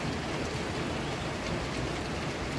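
Steady, continuous rain over a waterlogged housing society hisses in a dense, even wash of noise, with no pauses or other clear sounds standing out.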